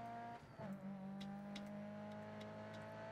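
A race car in the mobile game GRID Autosport, in a drift tuner event, holds a steady, droning engine note with a slight shift early on. It plays alone, with no talk.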